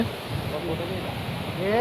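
Rushing water of the large Katiki waterfall in Araku, a steady broadband roar that grows slightly louder toward the end, with voices faintly mixed in.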